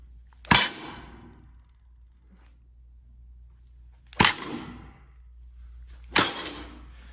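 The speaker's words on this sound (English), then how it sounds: "I'm gonna hit that blade as hard as I can with this other blade" Two sword blades strike hard together, one of them held in a vise, in three loud, sharp metallic clangs spaced a few seconds apart. Each clang rings briefly before fading into near silence.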